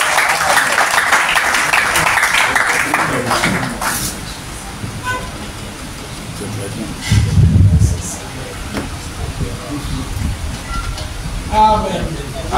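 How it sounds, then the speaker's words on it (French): A church congregation at a servants' convention applauds and acclaims, a dense burst of clapping at the start that fades into scattered cheers and voices. "Ça mérite une acclamation si on a bien compris."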